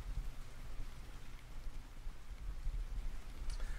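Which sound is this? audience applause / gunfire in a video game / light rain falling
light rain falling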